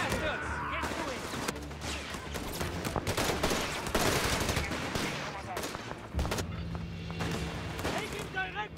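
Dense gunfire from a Company of Heroes 3 desert battle with Wehrmacht forces, rapid machine-gun bursts and rifle shots rattling continuously alongside booms, with shouted in-game unit voice lines running underneath.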